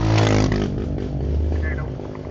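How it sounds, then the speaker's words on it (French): A motorcycle rolls past on a forest road near a beach in the ZEC Batiscan area, its engine loud and close at first, then fading under steady talk. "Laissez passer la moto."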